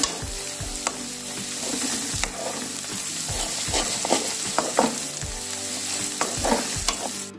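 Ginger fries in a pan for an Onam-style ginger curry, with a steady, loud sizzle running throughout and stirring scrapes breaking through now and then, close and without talk.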